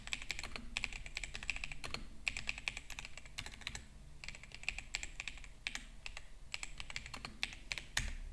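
Terminal commands are being typed on a computer keyboard in quick bursts of clicky keystrokes, with short pauses between runs of keys. The clicking is close and steady and no voices are heard.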